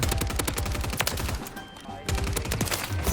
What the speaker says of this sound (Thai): ยิงทะลุควันเข้ามา